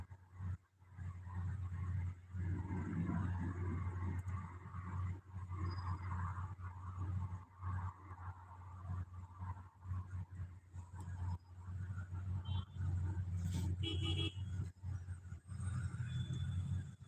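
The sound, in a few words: traffic on a road in Dubai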